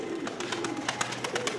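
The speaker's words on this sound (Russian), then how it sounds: "Голуби, видишь, не засиживаются." Pigeons in a village yard coo steadily, repeated low rolling calls over a constant background hum, moderately close.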